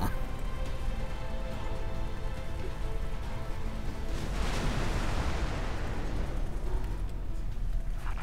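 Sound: explosion in video game X4 Foundations

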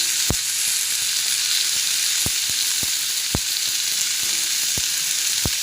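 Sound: stirring taro leaves frying in pan

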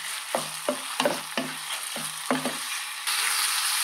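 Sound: chicken frying and being stirred in a pan for jalfrezi

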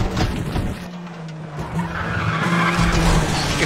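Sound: car braking and skidding, Need for Speed The Run video game

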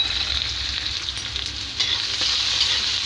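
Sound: onions frying in oil with whole spices

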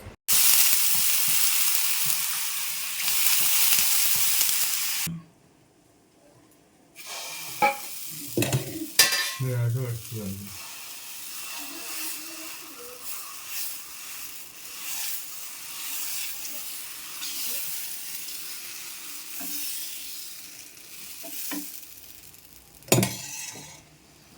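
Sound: dosa cooking on a pan

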